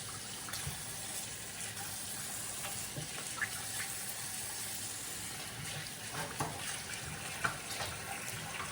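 Lukewarm tap water runs steadily over raw meat being washed for Haitian legumes, a soft continuous splashing with small irregular spatters and clunks, fairly quiet and close, with no voices.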